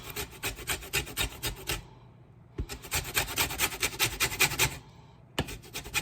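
A lemon peel being zested down to the white pith, a steady rhythmic rasping scrape in quick strokes, close and clear, with two short pauses between bursts and no talk.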